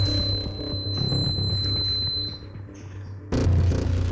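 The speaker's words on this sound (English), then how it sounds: "let's see who presses the buzzer first for the first question" Quiz buzzer pressed by a contestant during a quiz show final. A steady electronic tone and background hum run for about two seconds, drop briefly, then a louder buzz bursts in near the end.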